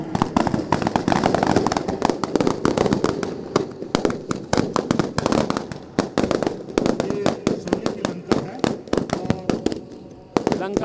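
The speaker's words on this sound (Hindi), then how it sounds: "जोरदार आतिशबाजी, जोरदार आतिशबाजी करना चाह रही है।" Loud fireworks and firecrackers crackle and bang in rapid bursts at a Dussehra fair in Ladnun, a near-continuous barrage of sharp reports over crowd noise and a public-address voice.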